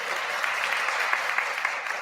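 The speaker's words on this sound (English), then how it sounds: "So give Yvette a round of applause" A brief burst of steady applause from an audience at a talk on social equity in cannabis, many hands clapping at once in a continuous wash.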